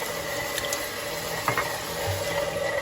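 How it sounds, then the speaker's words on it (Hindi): Water trickles steadily into dough for samosa pastry as a mixer kneads it, a soft continuous pouring and faint mechanical hum with a couple of light knocks, no voices. "हो सकता है इसमें आधा कप पानी का और डालें।"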